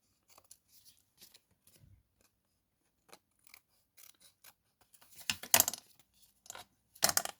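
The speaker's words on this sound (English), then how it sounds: "let's just cut these edges off." Scissors snipping the edges off a piece from a card-making kit at a craft desk, a run of quiet close snips that builds to a few louder, crisper cuts near the end.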